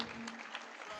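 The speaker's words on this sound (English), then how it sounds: "with a resounding round of applause" Audience applause welcoming a guest lecturer at a radio station's 18th anniversary public lecture, a dense steady roar of clapping throughout, fairly close and continuous.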